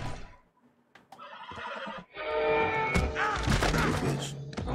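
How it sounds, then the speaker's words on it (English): A horse neighs in the Red Dead Redemption video game, a loud whinny rising out of dense game sound with thuds and knocks over roughly five seconds. "Get that damn horse up."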